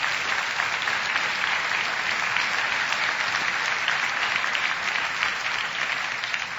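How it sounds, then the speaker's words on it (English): Sustained applause from a seated audience at a talk on running and homelessness, a dense, even wash of clapping that carries on steadily without a break. "Applaud yourself."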